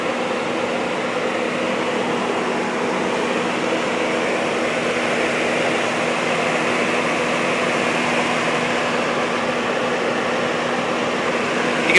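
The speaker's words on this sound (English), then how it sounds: "You'll hear our high-speed fan kicked in, and that's because of our AC condenser pressure," Steady broadband whoosh of the high-speed electric radiator fan in an LS-3 powered Jeep JK, switched on by AC condenser pressure and pushing air past the engine, running loud and unbroken with a faint constant hum beneath.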